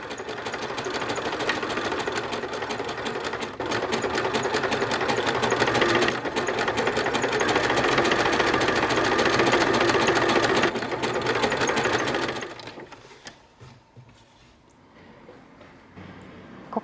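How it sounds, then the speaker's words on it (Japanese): A sewing machine runs a stretch stitch joining the crotch piece to the front of a pair of shorts, a loud rapid steady whirring that stops abruptly near the end, leaving quiet handling noise. "クロッチと前ショーツを縫い合わせよう。 ミシンの縫い目は伸縮縫い。"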